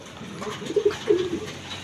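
Racing pigeons in a fancier's loft give a few soft, close cooing calls, brief and low, with no talk over them.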